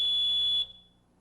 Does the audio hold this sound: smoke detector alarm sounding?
yes